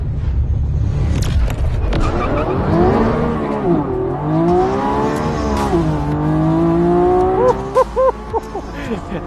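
A Lamborghini Revuelto V12 plug-in hybrid launches on a race track with a burnout. The engine revs loudly, and wavering squeals and tire noise ride over the rising and falling engine note.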